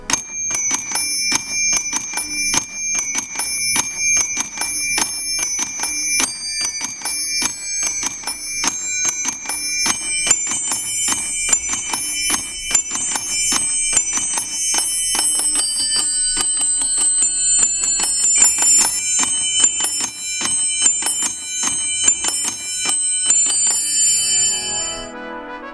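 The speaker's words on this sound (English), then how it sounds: "Santa, along with 7 elves, stand atop drums while ringing bells." Bright bells ring in a rapid, continuous pattern, played by Santa and seven elves standing atop drums, loud and sustained for the whole stretch before stopping abruptly near the end.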